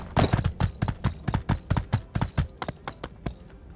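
Horse hooves clip-clop steadily in a video game as a rider moves along, roughly eight even, fairly loud beats that slow slightly toward the end, with no voices present.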